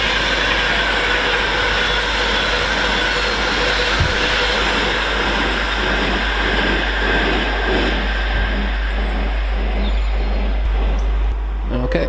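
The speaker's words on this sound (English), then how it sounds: "Heading through on the fast lines there is another Advanced West Coast Pendolino" Avanti West Coast Pendolino 390042 passing at speed on the fast lines at Stafford, a heavy continuous rush and rumble with rhythmic wheel beats, steady and near, with a voice talking over it.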